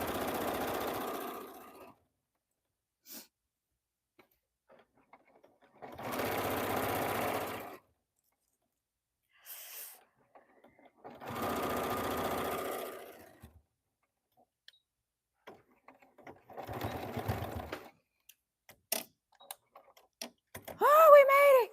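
A sewing machine stitches a denim corset dress in several bursts of running, each lasting a couple of seconds, separated by quiet pauses. A brief voice and a few clicks come at the very end.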